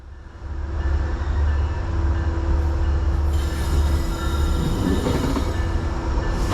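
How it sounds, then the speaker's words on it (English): New York Central heritage diesel locomotive 211 rolls into South Norwalk Station with a steady heavy rumble and rail noise, wheels squealing faintly as it nears, loud and continuous throughout. "The New York Central Heritage Unit number 211 rolls into South Norwalk Station on track 4"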